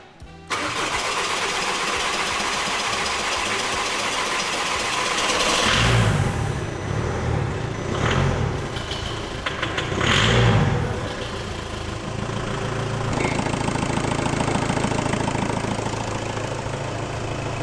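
Car diesel engine cranks, starts and settles into a steady idle after its fuel filter is changed and the fuel system bled, with a couple of brief revs rising and falling, close and loud throughout.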